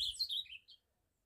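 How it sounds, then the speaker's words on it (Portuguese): Ultramarine grosbeak singing in an aviary, a short bright burst of high chirping notes that fades out after under a second, fairly close and alone. "O azulão aqui, ó, tá cantando."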